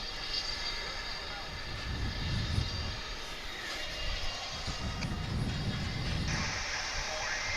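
A propeller aircraft engine at DFW International Airport drones steadily throughout, a continuous broad rumble with a little surging, heard from a moderate distance outdoors.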